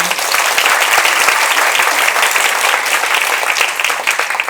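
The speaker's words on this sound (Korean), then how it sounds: "괜찮았으면 박수 한번 쳐주세요." Steady, dense applause from a seated audience at the opening ceremony of an education forum in Paju, Korea, loud and continuous throughout with no talk over it.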